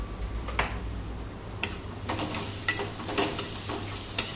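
Spices such as garam masala and turmeric being stirred into egg bhurji rice in a hot pan, with a spoon scraping and tapping in irregular strokes over a soft sizzle, close and moderately quiet.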